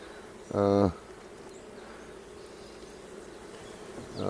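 Honey bees at a hive frame: a single close, loud buzz swells briefly as a bee passes near, over a low, steady background hum of the colony.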